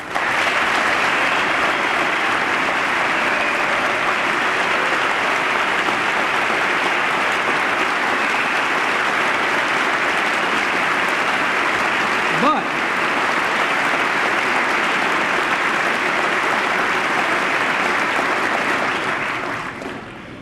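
Sustained applause from members of Congress during President Bill Clinton's 2000 State of the Union address fills the chamber, a steady, even roar of clapping that lasts about twenty seconds before fading out at the end.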